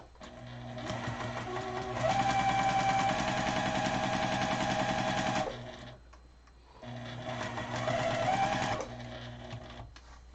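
A sewing machine stitches around the edge of a 6-inch fabric square for a quilt block coaster, a close, steady mechanical whir in two runs separated by a brief pause.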